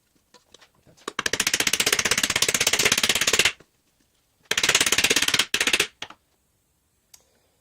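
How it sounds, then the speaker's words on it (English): Pieces are riveted onto a pikeman's pot helmet with a rapid power riveting tool, in two loud, close bursts of fast hammering, the first about two and a half seconds long and the second shorter, with quiet gaps between. "first we have to rivet it into the helmet"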